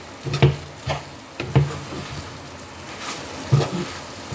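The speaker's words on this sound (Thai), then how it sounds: "ตอนนี้ก็ใส่ถั่วเลยนะถั่วป่นใส่ไปเลย" Ground roasted peanuts are added to a frying pan and stirred, giving a few soft scraping stirs spaced a second or so apart over a faint background hiss.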